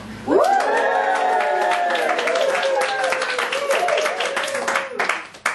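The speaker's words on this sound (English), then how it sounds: "I'm going to ask us to practice whooping, cheering and hollering" A live show audience whoops, cheers and hollers together in one loud, sustained burst of rising voices that holds for several seconds, then fades out.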